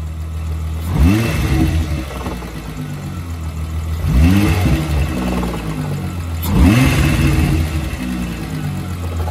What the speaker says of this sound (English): Rev it up a little.